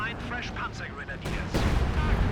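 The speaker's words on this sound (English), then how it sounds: "Detonates it for some damage, not worth it" In Company of Heroes 2, a demolition charge detonates amid ongoing battle sounds: gunfire bursts give way to a loud, booming blast that rumbles through the end, with a voice talking underneath.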